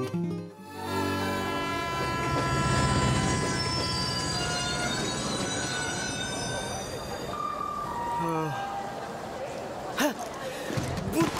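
A train at a railway station gives a sustained, loud rumble with long tonal horn-like notes and a brief wheel squeal, and voices are heard in the scene.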